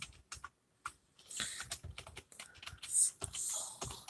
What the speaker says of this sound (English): I'm not a fast typer, by the way.